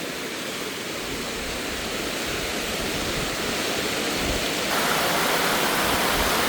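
Waterfall with water rushing hard, a dense, loud, unbroken roar that swells slightly near the end, with no speech over it.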